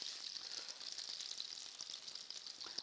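Onions frying in a pan for a courgette curry, a steady bright crackling sizzle with small pops, fairly faint and alone without talk.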